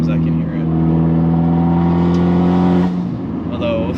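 A car engine idling and running at low RPM with a deep, steady exhaust note, loud and close, holding even before easing off near the end.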